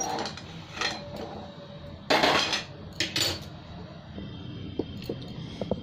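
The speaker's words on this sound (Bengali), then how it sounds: "এবার আমাকে চলো কড়াটা এক সাইডে করে দিই" A metal kadai wok is shifted aside on a kitchen stove, giving a few sharp clanks and scrapes of metal on metal among softer clinks and light handling noise.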